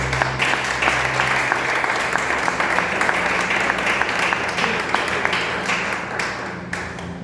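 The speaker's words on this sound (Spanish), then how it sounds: "Dale un aplauso al Espíritu Santo." A congregation at a church service applauds for the Holy Spirit, a loud sustained wash of many hands clapping with sharp individual claps standing out, steady for several seconds before easing slightly at the end.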